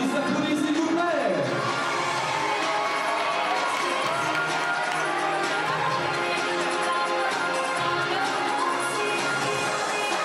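An audience applauding and cheering for Miss Burgundy 2017 at a regional beauty pageant, steady loud clapping filling the room with a few whoops over it, and an announcer's voice briefly at the start.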